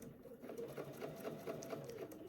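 A sewing machine stitches a welt pocket bag seam about a sixteenth of an inch from the edge, giving a steady, fairly faint mechanical whir and needle patter throughout, with no voice.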